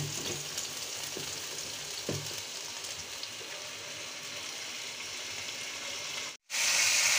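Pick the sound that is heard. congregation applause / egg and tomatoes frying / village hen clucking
egg and tomatoes frying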